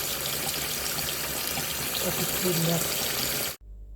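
Water swishes and gushes steadily as cassava is washed, a continuous close splashing wash that cuts off abruptly near the end.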